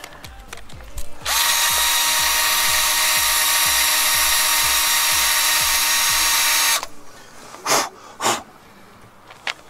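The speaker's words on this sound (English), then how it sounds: "I actually drilled all the way through" A power drill whines steadily for about five seconds as it bores through metal, followed by a few short, sharp mechanical bursts.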